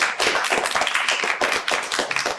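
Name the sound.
applause at end of school debate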